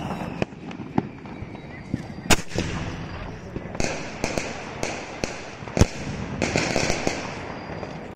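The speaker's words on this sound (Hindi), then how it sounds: "चलिए इस बड़े वाले स्काई शॉट को जला के देखते हैं कैसा चलता है" A large Diwali sky shot firework launching a rapid series of sharp, loud bangs and crackles at irregular intervals, some close and booming, mixed with fizzing between shots and voices in the background.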